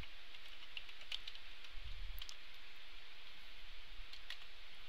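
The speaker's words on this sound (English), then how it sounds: "I'm going to type in my current password" A password is typed on a computer keyboard as a quiet run of light, scattered key clicks over a soft background hiss.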